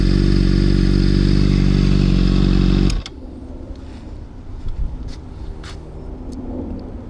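A 2013 Honda CBR600RR motorcycle engine revs loud and close, holding a strong, steady roar, then cuts off abruptly to a low idle with light clatter and handling noises.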